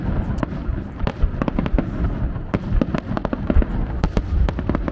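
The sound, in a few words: fireworks at the Nagano Ebisu-ko fireworks festival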